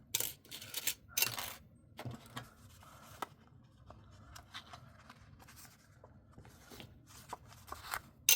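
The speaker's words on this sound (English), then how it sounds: "Put a fancy paper clip on here." A fancy paper clip is slid onto a paper envelope, giving quiet, close rustles, small metallic clicks and paper scrapes, scattered in short bursts with soft handling noise between them.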